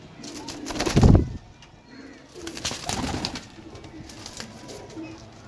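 Pigeons for sale at a seller's loft in Sarai Alamgir coo and call near and loud, with a burst of wing flapping early on, then softer cooing continuing in the background.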